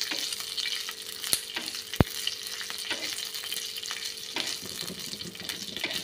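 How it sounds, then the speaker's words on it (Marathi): Mustard seeds, cumin and green chillies crackle and sizzle in hot oil on a low flame, a loud close spattering hiss with sharp pops and spoon scrapes throughout, no talking. "आणि मोहरी छान तडतडली आहे"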